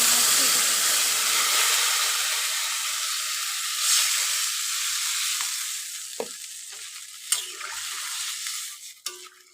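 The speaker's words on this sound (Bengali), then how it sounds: "তখন ঝোলটা কিছু সময় ফুটবে" Curry broth bubbling in a pan with potatoes that were just fried, a steady close hiss and sizzle with soft stirring clinks near the end.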